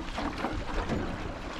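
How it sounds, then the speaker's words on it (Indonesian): A sampan boat glides along on water inside a cave area, giving a continuous broad rush of water and wind noise with no clear voices. "Mengendarai perahu sampan."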